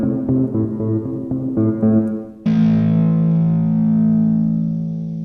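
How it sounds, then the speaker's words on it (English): A distorted synth from Spitfire Labs plays a few choppy chords, then lands on a long sustained, harsh, buzzing dissonant tone that rings on with a wavering, clashing quality. "it's very dissonant sounding synth almost"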